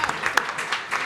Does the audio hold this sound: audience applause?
yes